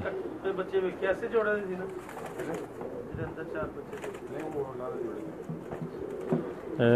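A pair of Pakistani pigeons coo in repeated soft throaty calls close by, overlapping and continuing throughout, beneath someone talking over them.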